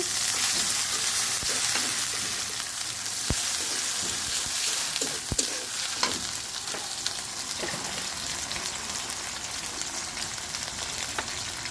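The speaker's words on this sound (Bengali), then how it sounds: "এখন আমি হাফ চামচ আদা রসুন বাটা দিয়ে দিব।" Ginger-garlic paste frying in hot oil for a beef brain bhuna curry, a steady dense sizzle and crackle running throughout with a few sharp pops and no voices.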